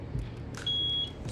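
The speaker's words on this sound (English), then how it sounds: "Just press it once, you will hear a beep, the green color light will be on." A VITION fingerprint safe box gives a single short, high electronic beep, clear and close, over a quiet room.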